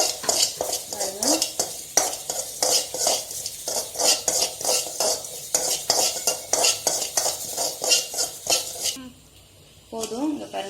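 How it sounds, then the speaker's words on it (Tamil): Poppy seeds dry-roast in a hot pan as a spoon scrapes and clinks against the metal in quick repeated strokes. A faint sizzle sits underneath, the stirring stops briefly near the end, and no one speaks. "மாத்திட்டு நம்ம இந்த பாத்திரத்துல இருக்க ஹீட்லயே உடனே கசகசாவை போட்டுக்கலாம்"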